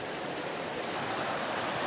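Rushing water from a hidden waterfall and its clean stream, a steady dense broadband roar that stays loud and even throughout, with no voices.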